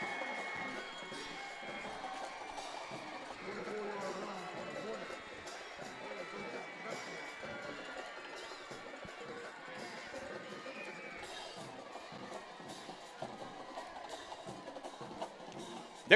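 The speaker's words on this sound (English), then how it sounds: "listen to that East Central crowd roar across the way" Distant East Central high school football crowd roaring across the field at a game against Pascagoula, a faint steady wash of cheering under continuous commentary talk.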